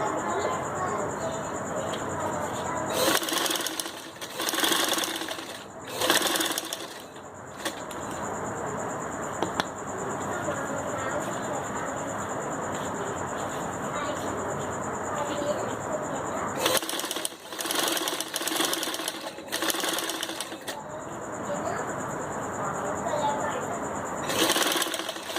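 A sewing machine stitches round seams on a turban, its rapid whirring running in several separate bursts that start and stop, with a voice talking softly underneath.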